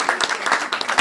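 Brief, close burst of clapping at a cosmetics training graduation ceremony, honoring the best assistant, dense and fairly loud for about a second.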